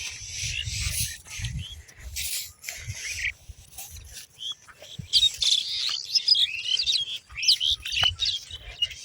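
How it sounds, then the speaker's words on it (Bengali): Birds chirp and tweet on a foggy village morning, bright twittering calls coming thick and overlapping, moderately near, above a low rumbling background. "পাখিগুলা কিন্তু মনের আনন্দে কিচিরমিচির করতেছে আর ঘুরতেছে।"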